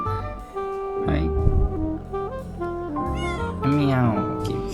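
A little kitten meowing close by in Singapore, several drawn-out tonal mews with rising and falling pitch, rather loud, with a person talking around the calls.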